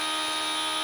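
Power drill boring a pilot hole in stainless steel, a steady high whine held evenly and loud throughout the short stretch.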